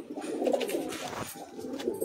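Male pigeons coo in soft, throaty bursts close by, two rolling calls with a short pause between them, with no voices over them.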